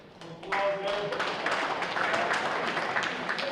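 An audience at a high school football banquet breaks into steady clapping after a brief pause, the applause holding at a moderate level for a few seconds.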